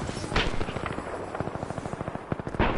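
Gunfire from a marksman weapon in Titanfall 2, a fast regular string of close, sharp shots rattling steadily for a couple of seconds, bracketed by louder blasts at the start and end.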